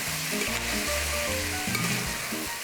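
Onions, garlic and apples fry in a Saladmaster pan over moderate heat, just after pork chops were seared in it, a close steady sizzle with brief stirring scrapes and no talk.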